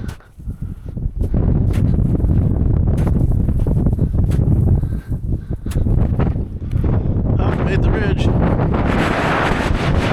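Strong wind buffets the microphone on an exposed mountain ridge, a loud, continuous roar with gusty surges that swell again near the end, while a person speaks briefly over it.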